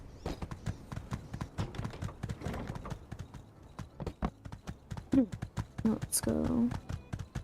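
Horse hooves clip-clopping in a video game, a brisk, even rhythm of close hoof strikes throughout, with someone talking over them and a few game chimes.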